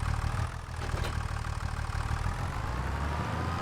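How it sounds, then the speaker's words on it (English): A tractor engine idles in Farming Simulator 25, a steady, close mid-low drone with a slight rhythmic pulse and no speech. "we're just going to park this tractor right here"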